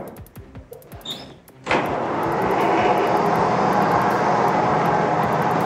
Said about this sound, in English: So this is much, much quieter, and yeah, it's about right for an electric motor probably, considering it's still a mechanical assembly.